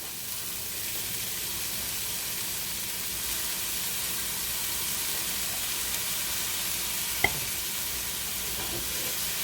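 Onion, carrot and peas fry in a pan with a steady, even sizzle and hiss throughout, with one brief light tap partway through and no voices.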